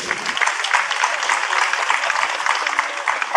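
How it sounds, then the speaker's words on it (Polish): Audience clapping steadily and fairly loudly at a festival award ceremony, a sustained round of applause from a crowd with no speech over it. "Jeszcze raz wielkie brawa, gratulujemy."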